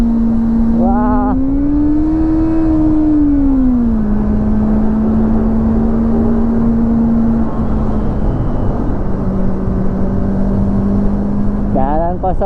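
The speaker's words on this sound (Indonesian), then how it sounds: "jalan kosong tuh pakai motor kayak gini tuh paling enak kayaknya" A Kawasaki Ninja ZX-25R motorcycle fitted with a Japanese WRS racing exhaust cruises along an empty road, its high-revving engine droning loud and steady with a brief rev rise at the start and again at the end.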